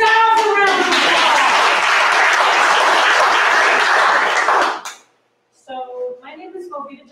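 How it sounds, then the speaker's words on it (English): Audience at an evening speaking event applauding, a loud, dense burst of clapping lasting several seconds that stops abruptly, followed by someone speaking. "Give yourselves a round of applause."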